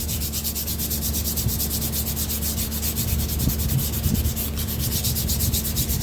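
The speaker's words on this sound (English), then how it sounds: "I'm just kind of knocking it all back down smooth again with some fine sandpaper, anywhere from 220 to 400" Fine sandpaper of 220 to 400 grit rubs back and forth over a wooden gun stock, a close, continuous scratchy rasp with steady strokes.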